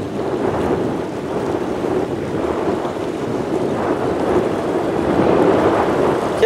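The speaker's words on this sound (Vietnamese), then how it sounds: "Có nghe tiếng động cơ rồi đó." A small sand barge fitted with two engines drifts on a river, its engine a steady, fairly loud low rumble blended with wind noise and gradually building slightly in strength.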